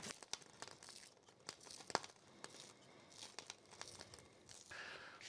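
Quiet, close snipping and crinkling of scissors cutting fresh green onion, irregular sharp clicks and rustles at a soft level.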